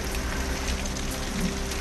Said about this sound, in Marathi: अहिल्यानगर जिल्ह्यामध्ये अनेक भागामध्ये अवकाळी पावसाची जोरदार हजेरी